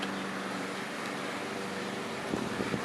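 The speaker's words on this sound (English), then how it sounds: "Pardon that gust of wind." A steady gust of wind roars across an outdoor microphone in a broad, continuous rush, loud and unbroken, with a few faint knocks near the end.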